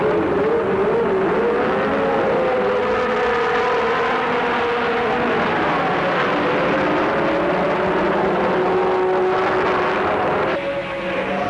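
Formula 1 cars, including Honda, Ferrari and Brabham entries, roar away at the start of the 1967 Italian Grand Prix at Monza, a dense, loud wail of engines rising and shifting in pitch continuously.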